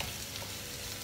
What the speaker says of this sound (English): I'm currently frying some onions.